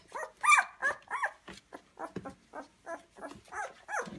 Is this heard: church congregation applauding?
no